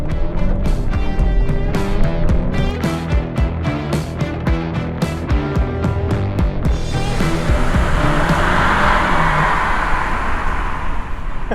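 An Alfa Romeo Giulia driven in dynamic sport mode: a steady engine drone with strong harmonic tones and rhythmic pulses, shifting midway into a smoother, broadband rush as the car accelerates.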